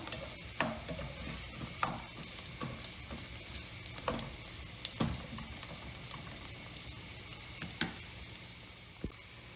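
Onions and peppers sautéing in a pan for a meat and potato dish, a steady close sizzle under occasional sharp scrapes and taps of a stirring utensil, no voices.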